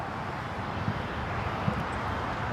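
A distant, steady jet roar drifts across LAX as an Air Premia Boeing 787 Dreamliner airliner moves past, low and broadband, with faint wind noise and no voices.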